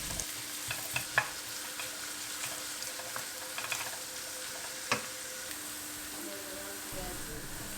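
Tomato paste and green peppers sauté for a vegan eggplant gozleme filling. A gentle, continuous sizzle carries irregular spatula taps and scrapes, with a brief louder stir near the end.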